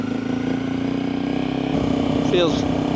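Motorcycle engine fitted with an SSS Stage 2 ECU runs cold at a steady, close idle hum, its tone shifting slightly partway through as it keeps running.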